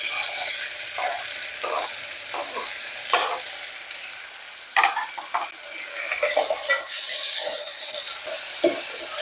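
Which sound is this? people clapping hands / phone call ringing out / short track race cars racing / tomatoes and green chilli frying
tomatoes and green chilli frying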